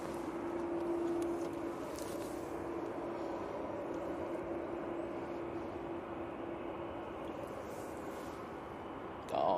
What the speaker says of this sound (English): Austria and Embraer coming in now